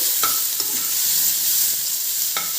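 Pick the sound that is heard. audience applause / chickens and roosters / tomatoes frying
tomatoes frying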